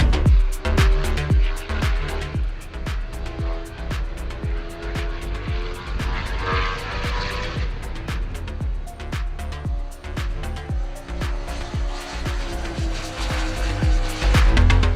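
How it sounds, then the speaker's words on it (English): A 2022 Norton V4SV with a 1200cc V4 engine and its exhaust on a racetrack, loud and close, revving hard with rising and falling gear changes and sharp pulses throughout. "when you get 1200 V4 and this sort of exhaust run, and it just sounds spectacular"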